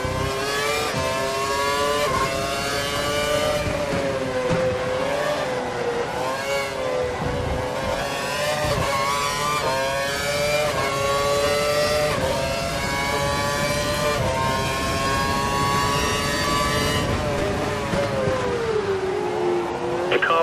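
Race cars in F1 2012 on the Valencia circuit scream at full revs, with a continuous loud, high engine whine rising and falling through gear changes and sustained for the whole stretch.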